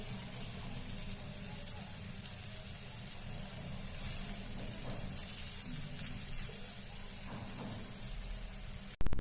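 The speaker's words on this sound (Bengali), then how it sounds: "মিষ্টি কুমড়ায় আমি এভাবে করে উল্টিয়ে দিচ্ছি" Pumpkin slices fry in a pan with a continuous, moderately quiet sizzle while they are flipped over, ending in a short, sharper burst.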